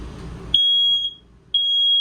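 Two loud, piercing high-pitched smoke alarm beeps inside a 2025 Forest River Salem FSX 233RBLE travel trailer, each lasting about half a second, sound one second apart after a brief low background rumble.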